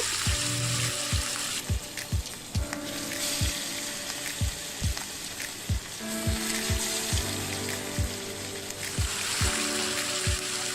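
Pieces of katla fish sizzle and spatter in hot salted oil with a steady loud frying hiss. Regular sharp ticks and clinks from the pan repeat throughout.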